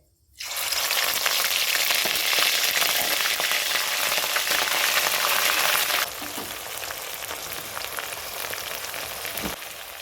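Ginger-garlic paste hits hot oil already holding a dried red chilli, bay leaf, whole garam masala and cumin, bursting into a loud, hissing sizzle that runs steadily, then eases to a softer fry after about six seconds.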